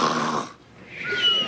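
Human voices imitating snoring in a family sitcom scene, two drawn-out nasal rasping snores with a short pause between, loud and close with no other talk.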